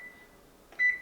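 An oven timer is set with a faint tone that fades, then a short, clear electronic beep, heard close in a quiet kitchen.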